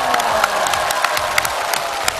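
A studio audience bursts into sustained applause and cheering for a singer at a television game show, dense clapping with scattered sharper claps running steadily throughout.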